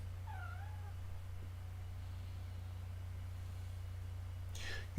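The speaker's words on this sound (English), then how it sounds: "Sorry, my cat was talking to me." A house cat meows with a rising-falling call early on, then a second, louder meow near the end, over a constant low electrical hum.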